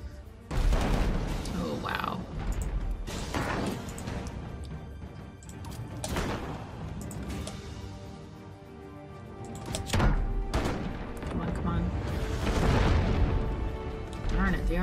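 Mortar and cannon fire during a ship battle in the video game Abandon Ship, repeated booming blasts and crashes at irregular intervals, with a voice talking over the noise.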